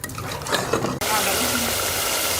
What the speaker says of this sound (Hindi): अब हम इसमें दही शामिल कर लेंगे। अच्छी तरह से दही को फेंट के और इसे भी हम अच्छी तरह से 4 से 5 मिनट तेज़ आंच पे भून लेंगे।